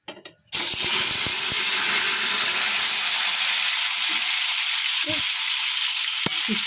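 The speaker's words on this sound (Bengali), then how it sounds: "আলু সিদ্ধ দিয়ে দিয়েছি নুন দিয়ে জলটা ঝরিয়ে দিয়েছি এটা কষাবো চলুন" Boiled, salted and drained potatoes sauté in a hot pan with steady loud sizzling, punctuated by a few clatters of stirring at the start and scattered scraping knocks later.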